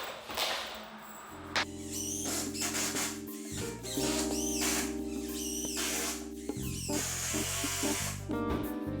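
A cordless drill with a dead battery whines and bogs down repeatedly driving screws into a floor, its motor pitch rising and sagging in short, struggling bursts, close and loud.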